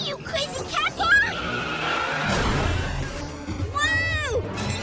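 Cartoon robot cat car from a kids' superhero show racing out of control, with engine revving, a tire squeal and a swooping sweep near the end under excited character voices.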